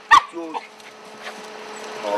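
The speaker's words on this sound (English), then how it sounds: "Good dog." A dog gives a quick single yip or bark at a house as police officers arrive, with people talking around it.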